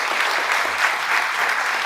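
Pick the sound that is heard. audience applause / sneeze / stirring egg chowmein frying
audience applause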